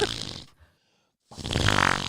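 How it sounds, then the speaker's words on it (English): Comic fart-like sound effect in a video game, a short buzzy blast, then a pause and a longer rasping burst, loud and close with no talking. "Ew, it does sound like Roxy farting"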